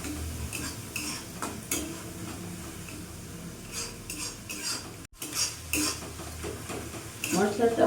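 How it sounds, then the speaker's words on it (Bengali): Spice masala, with a splash of water added, is stir-fried in a pan for a rohu fish curry with papaya and potato; a spatula scrapes and clatters rhythmically against the pan over a soft sizzle, close and fairly loud. "এবার ভালো করে মশলাটা আমি কষিয়ে নেব।"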